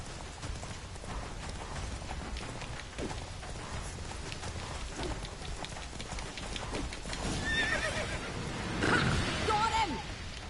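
Horse galloping and neighing in The Witcher 3 video game, steady clip-clop hoofbeats under a rain-like hiss, with a loud whinny near the end; game voices speak briefly over it.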